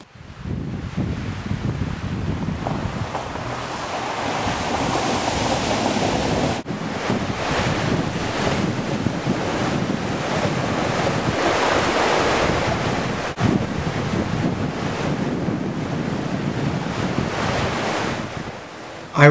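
The River Nairn rushes steadily while a four-wheel-drive vehicle drives through it, with a loud, continuous wash of water and wind buffeting, a couple of abrupt breaks, and no talking.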